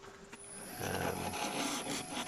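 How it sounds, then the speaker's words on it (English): A round skew chisel bounces against a wooden workpiece spinning on a lathe, where the wood has a crack filled with super glue, making a rough, chattering, rasping scrape that starts faint and grows steadier and louder. "Just using the round skew again to try and smooth it up, but you can see and hear this tool bouncing"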